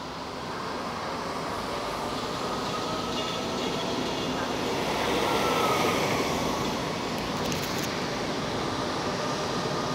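InterRegio train IR 1531 from Timișoara Nord to Baia Mare arriving, a steady rumbling roll that swells slightly as it draws near, with faint voices in the background.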